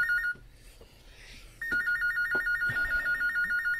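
An electronic telephone bell rings with a fast warbling trill for an incoming call. It begins after a brief quiet stretch and then repeats loudly and steadily until the end.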